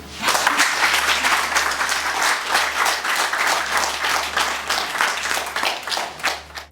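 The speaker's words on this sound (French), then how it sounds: "Madame Borda Kanchou, que je vous prie d'applaudir" Loud, steady applause from an audience at a Run For A Cure health campaign event, dense clapping sustained for several seconds with a low constant hum underneath.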